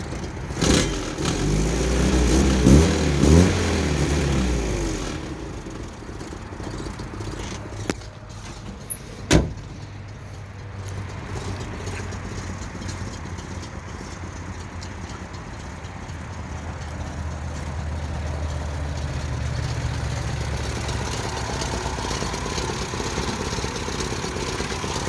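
Small engine of a 1963 Datsun 320 pickup truck runs steadily at idle nearby, with a few sharp knocks and clunks early on and a low, even hum afterward.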